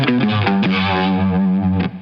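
Distorted electric guitar playing a riff, a quick phrase of gritty, sustained notes with chorus-like shimmer, loud and alone.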